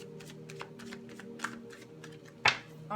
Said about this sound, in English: Third shuffle.